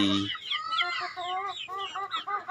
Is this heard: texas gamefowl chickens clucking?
yes